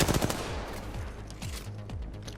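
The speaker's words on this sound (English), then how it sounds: "Bang misses a whole bunch of shots" Bursts of automatic gunfire in Apex Legends during a close firefight, a dense rapid volley at the start easing into scattered, steady shots over continuous game noise.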